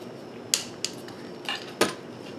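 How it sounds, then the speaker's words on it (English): Metal barrel band being fitted back onto a Mosin Nagant M44 rifle during reassembly, giving four small, close clicks and taps with light scraping between them. "Go ahead and put our barrel band back on."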